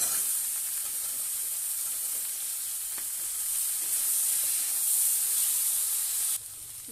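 Bitter gourd and eggplant frying in oil with onion and garlic, a loud steady sizzle and hiss close up, with faint stirring clinks, cut off sharply near the end.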